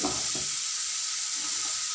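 Spice masala sizzles in hot oil for a tadka, a steady close hiss with faint low clatter of stirring and no voices.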